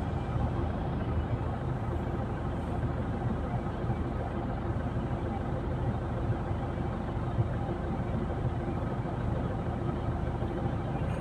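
Heavy, congested traffic at NAIA Terminal 3 with cars counterflowing, a dense continuous rumble of idling and creeping engines close by, steady throughout.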